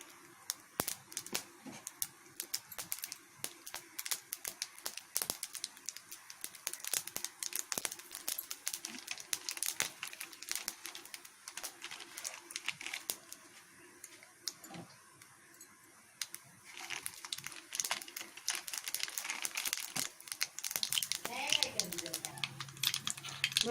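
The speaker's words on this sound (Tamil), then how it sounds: "எண்ணெய் காஞ்சிடுச்சு, கடுகு போட்டிருக்கேன்." Mustard seeds splutter and pop in hot oil while lemon pickle is being made, giving a dense, continuous crackle of close, irregular pops that ends with a brief sizzle.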